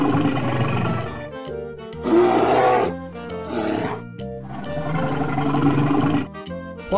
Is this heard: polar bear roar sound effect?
yes